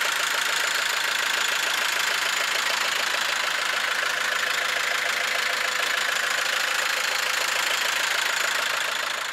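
A car engine runs steadily at idle, a continuous mid-pitched mechanical hum with a faint rhythmic knock. It sounds close and alone, with no talking.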